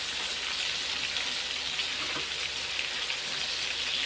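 Green chillies sizzling in hot oil in a pan as they are stirred, a steady close crackle with a faint scrape of the stirring utensil, continuous throughout.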